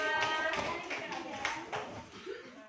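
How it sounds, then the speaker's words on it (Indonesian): A room full of children claps together, a dense burst of applause with scattered voices mixed in, fading slightly toward the end. "Tepuk tangan untuk kelompok 5."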